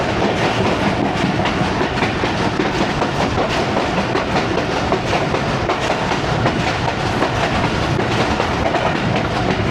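A passenger train on the Lahore to Narowal line runs along raised tracks past fields, with a loud, continuous rumble and steady clickety-clack of wheels heard from on board.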